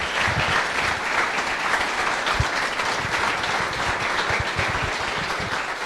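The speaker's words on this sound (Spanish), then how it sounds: "Yo quisiera pedir un fuerte aplauso para los organizadores de este evento." A conference audience applauds the event organizers, steady loud clapping that fills the whole stretch without letting up, with no talk over it.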